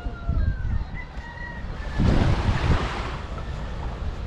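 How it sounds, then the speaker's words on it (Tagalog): Strong wind buffets the microphone on a coastal road at the far end of the Davao coastal road, a steady roar with a louder gust midway, surf sounding faintly beneath. "ang lakas ng hangin"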